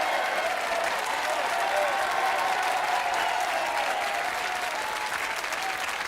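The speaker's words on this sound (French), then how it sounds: "je voudrais qu'on applaudisse Jean Vallée" A studio audience applauds guest Jean Vallée on a French television game show, a steady, even burst of clapping that fills the whole moment with faint crowd murmur beneath.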